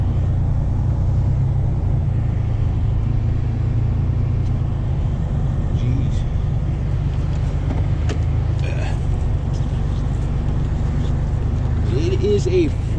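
A vehicle engine running on a cold, frosty morning: a loud, steady, low rumble that lasts throughout with no break.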